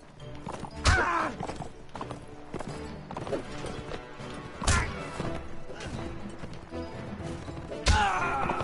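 A horse gallops and strikes in the medieval combat game Mount & Blade: Warband, with steady hoof clops broken by several loud heavy impacts and thuds.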